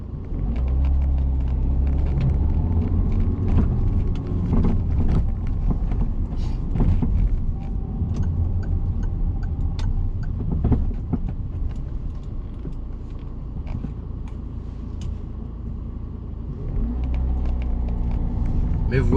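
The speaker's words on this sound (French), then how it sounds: "Donc j'accélère, je lève l'embrayage tranquillement." A car engine pulls away as the clutch is gently released, holding steady at low revs around 1,500 to 2,000 rpm: a continuous close rumble that dips briefly near the end and then rises again.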